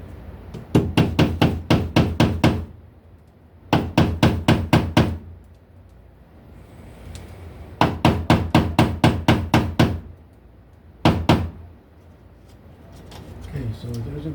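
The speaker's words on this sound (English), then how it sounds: "we'll get a staple up here to keep our wire away from this piece of metal" Hammered staples securing electrical wire during a light-switch installation, heard as tight bursts of rapid, sharp knocks in four groups, close and loud, with a few isolated taps between.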